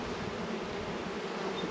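Young, newly emerged honey bees hum steadily inside a hive while nests are moved into ten-frame boxes, a dense, continuous buzz at moderate level with no voices.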